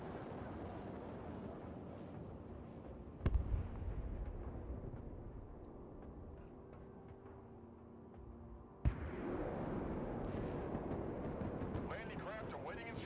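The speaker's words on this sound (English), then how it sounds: "No, those are ballistic missiles." Ballistic missiles exploding in the war game Broken Arrow: two sharp impact bursts followed by a heavy, sustained rumble of blasts and debris, with a voice talking over the battlefield din.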